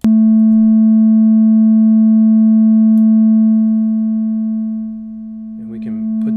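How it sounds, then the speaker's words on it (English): A steady, loud pure sine tone from a eurorack synth oscillator patched straight into a mixer holds unchanged for about five seconds, then drops slightly in level as brief, faint burbling sounds enter near the end. "The sine wave is the wave that looks like a hill up and down."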